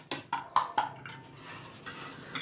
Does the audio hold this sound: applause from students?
no